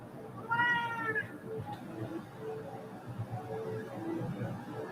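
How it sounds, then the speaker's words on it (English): A house cat lets out one drawn-out, wavering meow near the start, fairly close and clear, followed by quieter room noise. "You hear that cat he is getting attacked."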